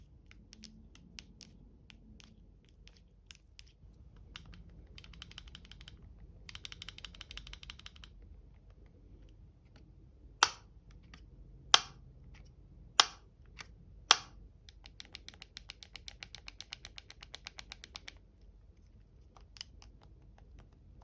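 Small plastic clicks and rattling snaps as the hinged lid of an AirPods Pro 2 charging case, with poor lid and hinge build quality, is opened and shut repeatedly, with several sharper closing clacks, close up and fairly quiet.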